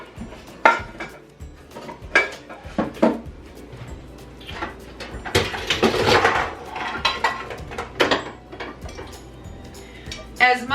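Metal pots and pans are handled and stacked while a kitchen is cleared out, giving irregular clanks and clatters near and loud, some cutlery jingling among them, with brief talk mixed in.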